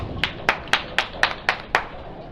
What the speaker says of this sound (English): And the proud husband gives him the clap.